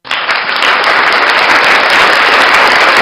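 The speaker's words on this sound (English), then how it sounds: "Do you hear the people applauding?" Steady, dense applause from a crowd of people, loud and even for about three seconds, with no voices over it.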